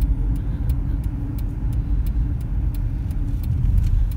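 A car drives along a highway, heard from inside as a steady low road rumble with faint regular ticking, like a turn signal, and no talk.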